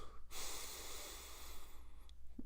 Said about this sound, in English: It's 4 seconds breathing in through the nose